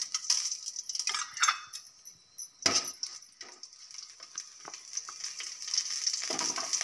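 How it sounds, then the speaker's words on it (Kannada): Mustard seeds hit hot oil already holding fried green chilies for a moringa leaf dal tempering, giving a bright crackling sizzle with scattered pops and light metallic clinks that swell and ease over several seconds, close by. "ಈಗ ಸಾಸಿವೆ ಹಾಕ್ಕೊಳ್ಳೋಣ."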